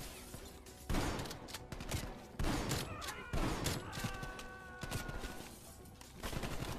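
Dragon's Breath shotgun rounds fire in Call of Duty Black Ops Cold War as repeated loud, heavy blasts every second or so, each followed by crackling debris and echo.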